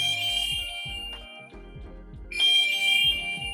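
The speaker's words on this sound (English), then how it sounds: "go down to Find My Phone, click it, and then your phone starts beeping wherever it is" A phone beeps after the Find My Phone alert is triggered from a Garmin Forerunner 955 watch: a loud, repeating electronic alarm pattern comes in two bursts with a brief lull between them, with no talk.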